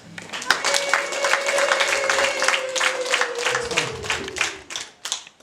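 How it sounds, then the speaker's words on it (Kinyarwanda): Guests at a wedding in Kigali clap in a sustained, crisp round of applause with distinct individual claps. A faint held tone runs underneath, and the clapping tapers off into a few scattered last claps. "maze muzongera amashyi"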